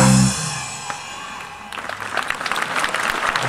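Audience applause breaks out after a performance by the Belakord choir in Smiltene, a loud dense patter of many hands that grows and holds steady to the end of the clip.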